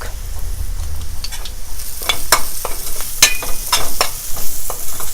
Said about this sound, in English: I will keep on stirring them until the onions are translucent